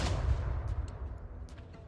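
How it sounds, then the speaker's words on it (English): Distant cannons firing in a World War One video game, heavy low rumbling booms rolling on continuously with a few sharper cracks layered over the top, no talking. "You can still hear those cannons firing"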